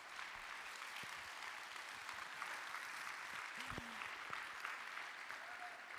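An audience at a Kotlin programming conference applauds a speaker with a steady, even wash of clapping lasting several seconds at moderate distance.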